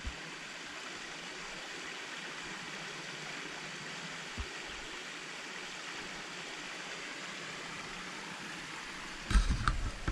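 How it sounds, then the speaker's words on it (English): A creek runs along a backpacking trail in Shawnee, a soft, steady, distant rush of water that stays faint throughout, with a brief knock near the end. "Get a good look at this creek down here today."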